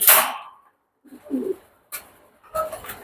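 A pigeon coos softly a couple of times close by, with short bursts of rustling and scuffling between the calls.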